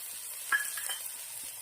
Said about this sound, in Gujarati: સરસ મજાનું આપણું જીરું અટકી ગયું છે તો આપણે નાખી દેવાની છે ઝીણી સમારેલી ડુંગળી